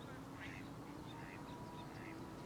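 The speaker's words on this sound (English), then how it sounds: "Got a ruddy duck out there." A ruddy duck, a diving duck, on a lake gives a few soft, faint calls spaced over a couple of seconds against open outdoor ambience.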